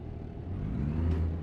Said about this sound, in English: when you're downshifting, you kind of got to give it some revs before you put it in the gear